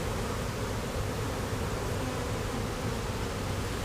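A dense, steady buzzing of a honey bee swarm, close and continuous, with no voices.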